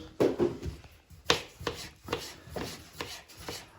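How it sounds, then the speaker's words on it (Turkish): A knife cuts potatoes into thick chip-shaped pieces on a board, giving a series of crisp chopping strokes at an uneven pace, each a short scrape and thud, with no talk. "Şu şekilde patateslerimizi doğruyorum arkadaşlar."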